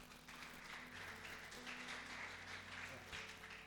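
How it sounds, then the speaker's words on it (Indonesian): A youth church service congregation claps steadily as a guest is welcomed, a soft, continuous patter of many hands heard from a distance over a low hum. "aku undang langsung aja Matthew, teman aku, boleh kasih tepuk tangan?"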